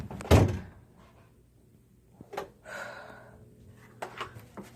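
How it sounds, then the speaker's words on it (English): A basement door swings on its own, opening with one loud, close thump followed by quieter creaks, scrapes and knocks as it shifts in a hushed room. "The door ain't closing."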